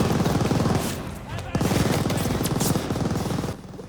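An MG machine gun in Call of Duty Vanguard, set in Normandy 1944, fires loud, rapid sustained bursts. There is a brief lull near the middle, then the fire resumes and tails off at the end.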